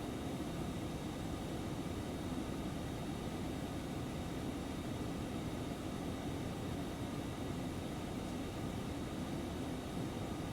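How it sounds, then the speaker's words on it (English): Twin jet engines of an Embraer Phenom business jet roar steadily at takeoff power during the climb, a constant broadband cabin rumble with a faint high whine, unbroken and loud throughout. "We'll keep takeoff power here for another minute or so just to get a good climb performance"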